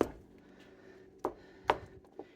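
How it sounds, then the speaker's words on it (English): Knife chopping leftover pieces of a homemade dog food topper with vegetables while it is stirred, a few sharp, close, uneven knocks against quieter scraping and no talking. "Chop up any other pieces I might see as I'm stirring it."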